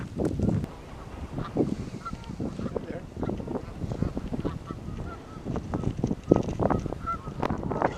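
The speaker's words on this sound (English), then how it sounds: "These Canadian geese have paired up for the nesting season." Canada geese, a nesting pair, honk repeatedly in loud, uneven bursts, close by, with some faint talking mixed in, in Alviso, Santa Clara County.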